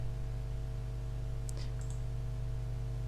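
A single sharp computer mouse click while stepping through a Hyper-V virtual disk setup wizard, sounding once midway over a steady low electrical hum in a quiet room.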